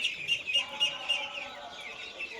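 Three-day-old ducklings in a brooder peep in thin, high, rapid chirps, a steady, fairly soft chorus close by.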